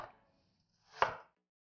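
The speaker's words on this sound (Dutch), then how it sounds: "Gewoon in stukjes snijden en eronder doen." A knife cuts through an apple in a single close, crisp chop after a brief quiet pause, with a faint earlier scrape.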